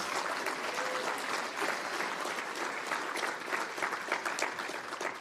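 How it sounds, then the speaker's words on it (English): A conference audience at WordCamp US 2018 gives a long, dense round of applause for the volunteers, steady and full throughout with no talking over it. "So can we please have a huge round of applause for all of our amazing volunteers?"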